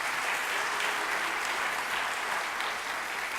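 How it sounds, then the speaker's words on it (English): A concert audience at a high school spring choral concert applauds, a dense, even wash of clapping from a large crowd that holds steady and loud throughout. "Please give a round of applause."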